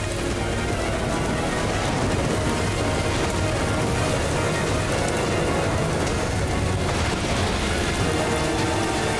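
A storm at sea pounds a sailing vessel with heavy, unbroken rain and low rolls of thunder, loud and constant throughout with no voices.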